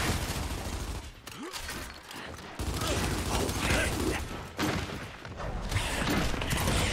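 Rapid bursts of gunfire rattle in the video game Gears 5, dense and loud with mechanical clatter between volleys, and a brief lull partway through.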